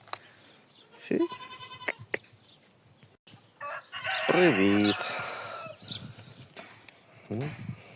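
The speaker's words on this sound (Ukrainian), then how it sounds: "Такі класні в тебе козята." Young goats bleat in short, quavering cries amid farmyard clucking on a Spanish farm, with a few bursts standing out loudly between quieter stretches.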